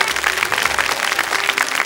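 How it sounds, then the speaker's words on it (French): TV studio audience clapping loudly on a French children's talent show, a dense, steady burst of applause lasting under two seconds with no speech. "Antoine qu'on applaudit très fort"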